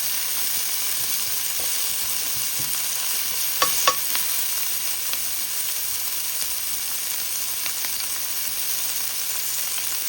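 Seasoned okra fries in a pan with a steady, close hissing sizzle that fills the whole stretch, broken by a couple of brief clinks near the middle.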